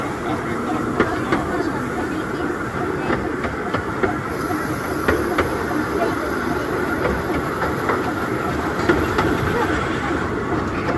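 A Bure Valley Railway train is heard at a station platform, a steady rumbling run with faint rhythmic clicks and a thin hiss, continuous throughout while voices talk over it.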